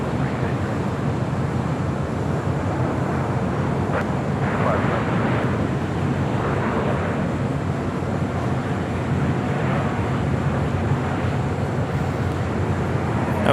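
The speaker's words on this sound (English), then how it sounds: "That was Southwest Airlines flight 3343 coming in from Phoenix, Arizona at 737-700." Southwest Airlines Boeing 737-700 arriving at LAX from Phoenix, a steady broadband jet roar holding at constant loudness throughout with slight swells, heard from a spotting location with no talk.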